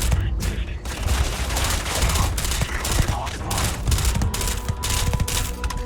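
Rapid bursts of gunfire in the Starfield video game, dense overlapping shots crackling steadily with a few louder bangs, loud and close throughout.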